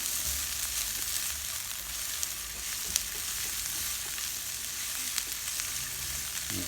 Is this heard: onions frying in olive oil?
yes